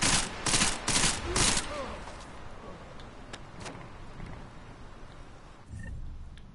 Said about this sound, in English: Let's try machine pistol.